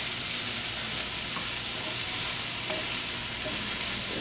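Greens seasoned with ground black pepper and Dash table blend wilt in a hot pan, giving a steady, even sizzle and hiss throughout with no talking.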